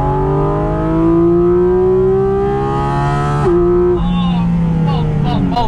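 Porsche 718 Cayman GT4 RS flat-six revving hard, its pitch climbing steadily to a high scream before an abrupt upshift, then rising again with sharp crackling blips, loud and close.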